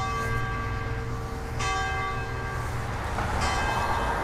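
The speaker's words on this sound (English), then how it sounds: "We got some church bells a-ringing." Church bells ring in Tirana, Albania, heard from along a river with steady city ambience. The tolls are clear and sustained, with fresh strikes near the start, around a second and a half in, and again toward the end.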